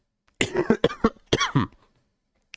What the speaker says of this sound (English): Oh god, I'm coughing.